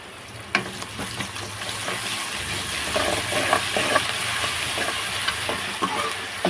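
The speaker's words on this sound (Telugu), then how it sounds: "కొంచెం వేగనివ్వాలి." Ginger garlic paste fries in a pan for a curry, producing a steady, loud sizzle and crackle throughout, with a few faint stirring knocks near the pan and no voices.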